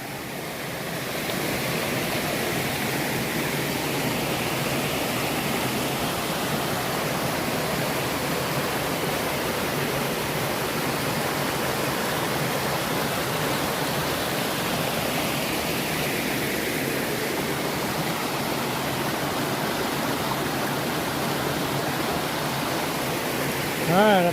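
A river rushes past at an Appalachian Trail crossing, its broad, steady roar of flowing water filling the scene from nearby for the full length, loud and unbroken, with no voices over it.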